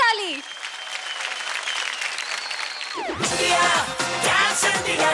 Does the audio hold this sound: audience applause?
yes